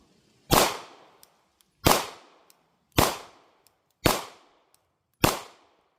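Five loud gunshots from a handgun fitted with a red dot optic after a six-foot drop test at an outdoor range, fired alone at a steady pace about one second apart, each a sharp crack with a decaying tail.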